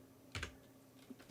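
A few quick keystrokes on a computer keyboard, faint and close, two clustered taps followed by a lighter one in a quiet room.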